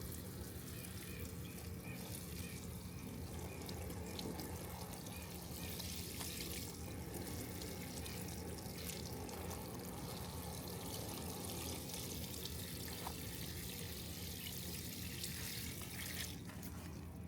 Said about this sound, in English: I'm watering them until it pools over.